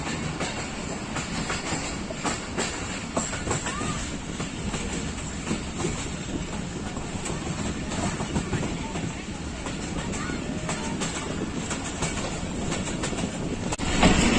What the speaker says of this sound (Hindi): अलीपुर से गुजर रही है गाड़ी इस वक्त।